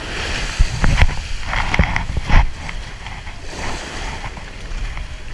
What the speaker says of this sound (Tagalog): natama yung palangoy sa alon